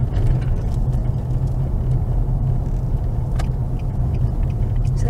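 A car drives along a rough dirt road in rural Smithville, Georgia, its steady low rumble and road noise continuing close and unbroken, with light rattles and knocks from the uneven surface.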